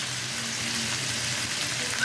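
Chicken pieces fry in medium-hot oil for a Bengali roast, a steady, close crackling sizzle that stays even throughout, with no speech.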